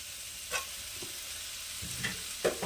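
Pre-soaked vegetables frying in a pan, a low steady sizzle with a few short stirring scrapes and clinks, close and fairly quiet, no voices.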